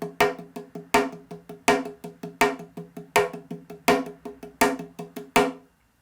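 A clay pot drum played in a steady stream of even strokes, every fourth one struck harder as an accent, heard alone and close.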